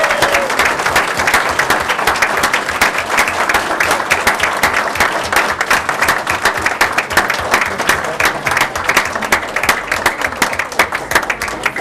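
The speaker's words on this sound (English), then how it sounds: "Let's give them a big round of applause." Sustained, dense applause from a school board meeting audience in Santa Barbara, honoring students, steady and loud throughout without pause.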